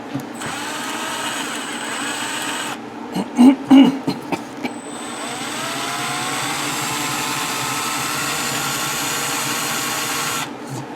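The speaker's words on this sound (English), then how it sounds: "Seem to have the only 5/16 drill bit that won't even drill through plastic." A power drill with a 5/16 bit whirs steadily through plastic on a Honda EU7000iS generator, stops briefly amid a few knocks and clatters, then spins up again and runs on close by.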